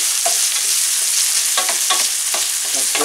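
Peppers and sweet peas frying in a paella pan, a loud constant sizzle broken by several close scraping stirs near the end.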